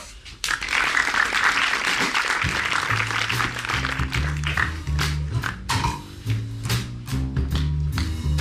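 An audience claps in a dense, steady patter while a rhythmic musical bass line enters partway through and continues beneath the applause.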